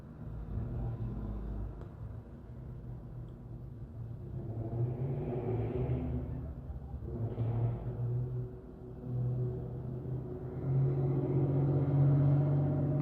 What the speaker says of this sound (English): That was a Ford Explorer.